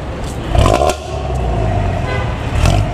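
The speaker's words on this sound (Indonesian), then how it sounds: "Kita dengarkan knalpotnya." Rumbling exhaust of an aging Pantura intercity bus, a rough snoring drone that swells louder near the start and again at the end, with brief horn-like tones over the steady engine roar.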